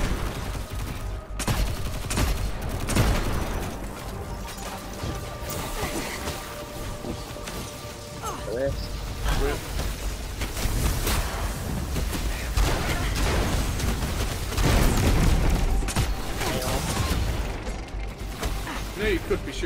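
Gunfire in Destiny 2 cracks in repeated bursts under a busy mix of game effects and mechanical clatter, with people talking over much of the shooting.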